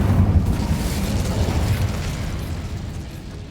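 A fiery Incendio spell cast in the Hogwarts Legacy video game: a loud, rumbling burst of flame that roars at the start and slowly fades over a few seconds, with no talking.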